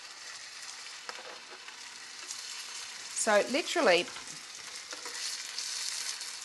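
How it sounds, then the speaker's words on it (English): Steady sizzling and frying crackle from tuna searing in a hot pan, with a brief voice speaking over it midway. "Gotta love that sizzle."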